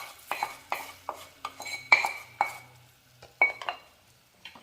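Metal spoon scraping and clinking against a pan while stirring fried chili powder into onions for onion pickle, a series of sharp irregular taps and scrapes, close and distinct with quiet gaps between.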